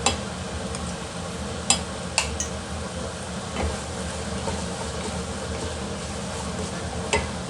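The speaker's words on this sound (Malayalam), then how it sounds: "അപ്പോൾ നമുക്ക് ടൊമാറ്റോ ഉള്ളിയും വഴന്നു നോക്കാം" Tomato and onion sauté in a pan with ginger garlic paste while soya chunk masala is being made, giving a steady low sizzle broken by a few sharp clinks of a spoon against the pan, with no talk.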